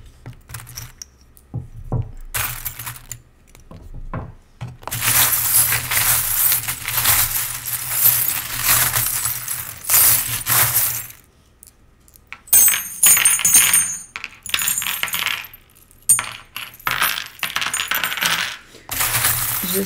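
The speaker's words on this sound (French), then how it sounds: "je vais mettre mes breloques." Metal charms jingle and clink together as they are handled and put on, in bursts of bright rattling with short quiet gaps between them, close to the microphone.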